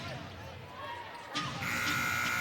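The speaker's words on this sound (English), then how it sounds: "To beat the shot clock buzzer" Shot clock buzzer at a WNBA basketball game, Golden State Valkyries against Phoenix Mercury: a loud sustained electronic buzz cutting in over arena crowd noise.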